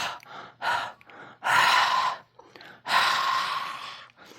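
Several forceful, breathy huffs blown close onto a rubber stamp to moisten its ink, a few short puffs followed by two longer, heavier exhalations like a rasping Darth Vader breath.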